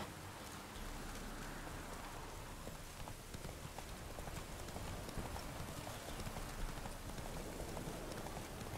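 Roach, a horse in The Witcher, gallops along in a steady clip-clop that is blended with a soft, constant hiss like rain, held at an even moderate level throughout.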